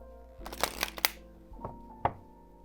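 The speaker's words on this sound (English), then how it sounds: "my hands are getting a little tired from all the shuffling" Tarot cards being shuffled by hand, a quick flurry of crisp riffling snaps followed by a couple of separate slaps as the deck is squared, close up with no talking.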